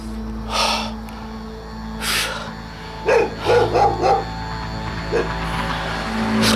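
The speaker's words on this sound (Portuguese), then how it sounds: "Olha aí, os cachorros já estranharam, pessoal." Dogs bark in the horror video game DeadLine, several short yaps and snorty barks over a steady background hum, moderately loud.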